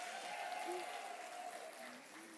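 Applause from an audience at an Atomy Philippines product presentation, a steady wash of many hands clapping for a couple of seconds with a voice faintly audible underneath.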